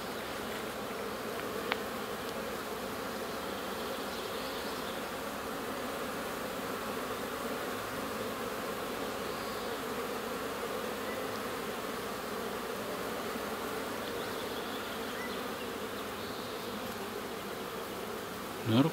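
Bees buzz continuously at a low, even level, a soft steady hum of many insects with a brief tick near the start.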